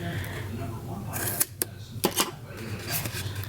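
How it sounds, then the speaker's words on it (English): Scissors snip off about half an inch of material while a bag is being made, giving a few short, sharp cuts near the middle of the stretch amid soft handling noise and low background hum. "I'm just gonna snip off about a 1/2 inch."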